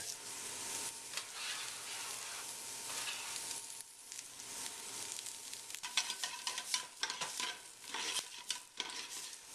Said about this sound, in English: I'm just going to add this garlic and these onions right to this pan. And get these sauteing here.